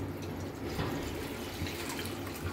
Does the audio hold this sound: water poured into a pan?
yes